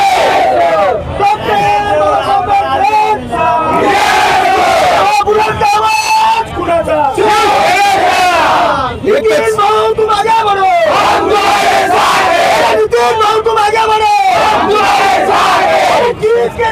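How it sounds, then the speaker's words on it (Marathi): A large crowd of Shiv Sena supporters cheers, shouts and chants continuously in loud, dense waves at an outdoor celebration of municipal corporation election results in Malegaon, with voices bellowing close by. "इथे सगळीकडे एकच जल्लोष आहे."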